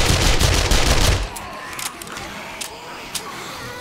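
Rapid automatic gunfire from a weapon in the zombie survival game 7 Days to Die rattles loudly for about a second, then gives way to quieter scattered clicks and thuds.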